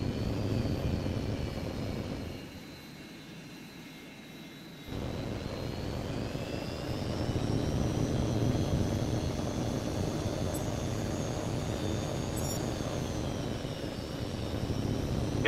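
Fighter jet engines in the Xbox 360 game Tom Clancy's HAWX 2, a loud continuous roaring whine that dips briefly then surges back with a rising tone, sustained and close without speech.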